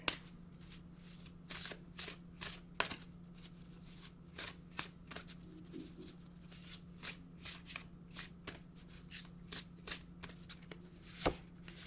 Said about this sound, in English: Let's pull an oracle card today.